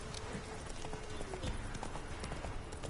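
Rhythmic clip-clop of hooves from a horse galloping in a video game, steady and fairly close against a dense, noisy game soundscape.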